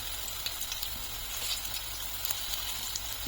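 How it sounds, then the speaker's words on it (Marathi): Veg cutlet patties, some coated in semolina, fry in hot oil with a steady, even sizzle and scattered crackles, close and continuous throughout. "आता तेलावर घालूया"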